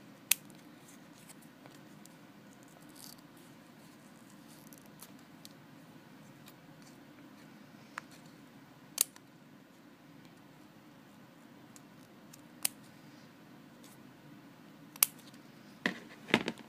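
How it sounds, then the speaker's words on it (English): Scissors snip a paper craft flower for a pot in sparse, sharp clicks spread over a quiet room, with a small cluster of cuts near the end. "And put your scissor through the hole"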